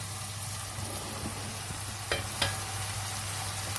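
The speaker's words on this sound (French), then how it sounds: "on laisse encore cuire la viande, les légumes tranquillement" Minced meat and vegetables fry gently over low heat in a pan, a steady soft sizzle with a low hum beneath and two brief sharper crackles partway through; no one talks.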